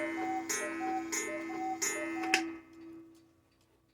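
A vintage 1980s West German Black Forest Regula mechanical cuckoo clock with a 30-hour movement ticks four times at a steady, close-up beat. Each tick is crisp and metallic, then the mechanism falls quiet.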